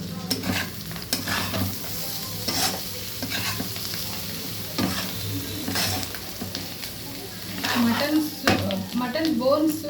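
Mutton pieces frying in a pan, a continuous close sizzle broken by repeated scraping stirs of a spatula, with a few louder clatters toward the end.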